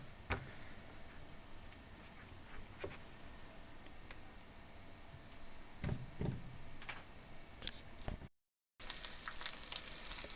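Chicken cutlets dredged in flour sizzle steadily in oil in a covered pan over low heat, with a few soft clicks and taps of cookware over the crackling frying.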